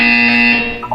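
A buzzer sounds in the video game Portal 2, one loud, harsh electronic tone held steady for most of a second before cutting off.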